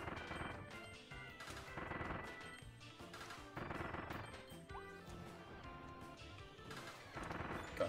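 Cannons fire in the video game Kirby and the Forgotten Land, repeated booming blasts and crashes recurring every second or so amid busy game music and effects, loud throughout.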